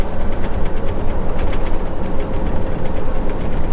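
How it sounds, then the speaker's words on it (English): A train passing near a road crossing, heard as a loud continuous rumble with rhythmic clacking of wheels over rail joints throughout, with no voices. "Oh, it's a train."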